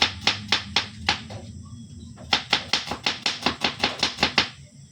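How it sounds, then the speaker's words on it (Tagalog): A knife chops an onion on a board in quick, sharp, close strokes, two bursts of rapid rhythmic cuts separated by a short pause. "Tayo naghiwa ng sibuyas."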